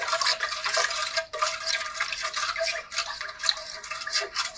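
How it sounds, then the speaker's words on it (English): A yeast and warm water mixture for pita bread dough stirred in a bowl, giving soft repeated scraping and swishing strokes up close, with brief pauses between them. "and just give it a couple stirs."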